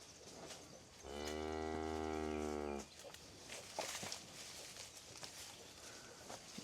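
A big cull cow on a farm, during fall pregnancy checking, gives one long, full moo lasting almost two seconds, followed by quiet shuffling and faint footstep-like thuds.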